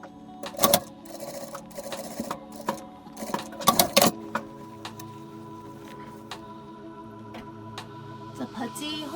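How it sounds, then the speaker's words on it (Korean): A sewing machine stitches closed the elastic opening on the waistband of women's pajama pants, with short buzzing runs and clicks mixed with fabric handling sounds and some tones at close range. "고무줄 끼운 이 창구멍 이 부분은 다시 박음질로 마감해 주시면 됩니다"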